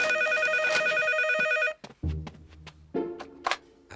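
A telephone rings loudly with a steady electronic trill for about a second and a half, then stops, followed by a few soft thumps and clatter as the handset is picked up.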